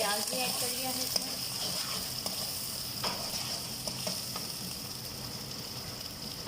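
Onion sizzling in hot oil for restaurant-style vegetable fried rice, a steady close crackle with a few light clinks and stirring scrapes.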